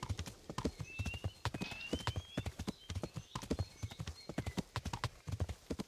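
Horse hooves clip-clop at a steady riding gait through the open countryside of Kingdom Come: Deliverance, close and distinct, with a faint whinny-like tone sliding in once or twice.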